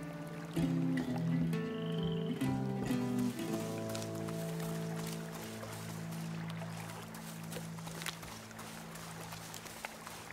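In a scene from the video game A Plague Tale: Innocence, frogs croak in low, repeated calls. The croaks overlap with watery splashes and scattered clicks over about ten seconds at moderate loudness.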